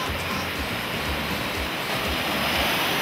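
Ocean waves wash onto a sunny beach at Florianópolis, a steady broad roar of surf with some wind noise on the microphone, continuous and fairly loud.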